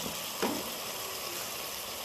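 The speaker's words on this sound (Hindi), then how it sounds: "अरवी हमारी 2-3 मिनट के लिए फ्राई हो गई है।" Pieces of taro root (arvi) frying in a pan give a steady, even sizzle with a faint clink near the start, and no voices.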